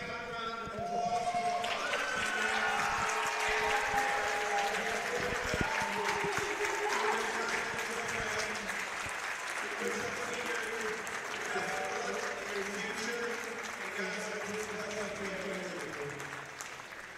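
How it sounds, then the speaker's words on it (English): Sustained applause from a crowd at a college women's volleyball senior night, steady and loud throughout, with an announcer's voice and cheering mixed in over it. "let's have one big final round of applause"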